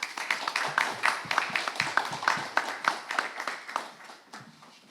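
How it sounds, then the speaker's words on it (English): A keynote audience claps at an academic lecture on natural law, with sparse, fairly distinct hand claps in an uneven rhythm that thin out and fade toward the end. "now, let us give a round of applause to Professor Christopher Tollefsen"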